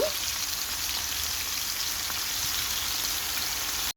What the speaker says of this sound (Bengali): চিকেনগুলো ভেজে নিচ্ছি